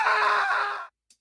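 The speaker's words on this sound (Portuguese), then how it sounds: "A primeira coisa que escutamos ao acordar num apartamento é um grito de horror." A single loud scream of horror in the video game Silent Hill 4: The Room, a sustained shrill cry lasting under a second that cuts off abruptly into silence.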